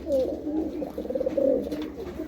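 A male and female pair of pigeons coo close by in a soft, rolling series of throaty calls that rise and fall without pause, with no talking.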